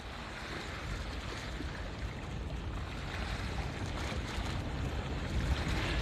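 Ocean waves wash steadily at Haulover Inlet in Miami, a broad continuous surf roar with wind buffeting the microphone that grows slightly louder toward the end, and no voices.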